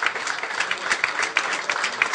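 An audience at an awards ceremony clapping steadily, a dense even patter of many hands with no talking over it.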